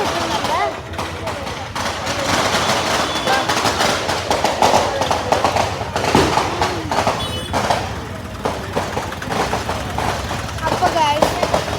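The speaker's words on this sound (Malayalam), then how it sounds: "പടക്കം പൊട്ടുന്നുണ്ട്" Firecrackers burst at a temple festival as rapid, irregular cracks and pops that run through the whole stretch over crowd noise, while people talk nearby.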